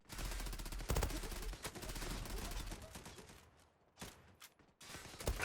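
UMP45 submachine gun firing in the online shooter Zula, with rapid bursts of shots in a dense, steady rattle, then short separate bursts after a brief lull, moderately loud and with no speech over it.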